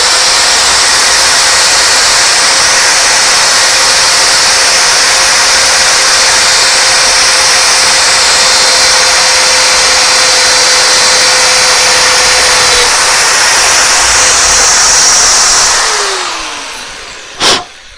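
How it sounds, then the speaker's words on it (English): A power drill whines loudly and steadily for about fifteen seconds drilling through metal on a satellite dish arm, then winds down and stops with a brief clunk at the end. "we're going to drill through right there and make a nice hole"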